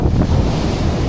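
Ocean waves surging onto Floreat Beach in Perth, a continuous broad rumbling wash with wind buffeting the microphone, close and steady throughout, no voices.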